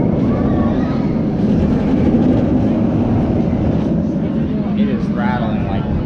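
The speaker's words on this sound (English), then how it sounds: "It is rattling like crazy" A Six Flags Great Adventure roller coaster rattles hard along its track, a loud continuous rumbling roar heard from on board with faint voices underneath.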